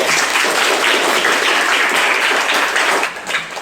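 A class applauds steadily during a classroom lesson, with dense, continuous clapping that tapers off near the end.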